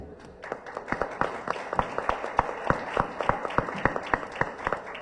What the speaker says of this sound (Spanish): vamos a recibir con un aplauso a Marta Cuevas